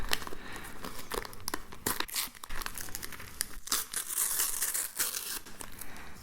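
Plastic wrapper of a Toy Story 4 trading card booster pack crinkles and tears close up, a continuous crackly rustling with sharp bursts of crumpling as it is pulled open, with no talking.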